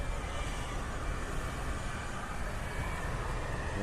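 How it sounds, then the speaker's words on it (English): A steady, broadband roar of a military jet beginning to taxi at an airfield in Hawaii during a fighter exercise, heard from a distance as a continuous, even rumble with no breaks. "It sounds like that plane has started to move."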